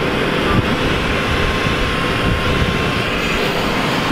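Large blower fan inflating a 30-foot outdoor stunt airbag, a steady loud broadband roar that holds constant throughout with no pauses.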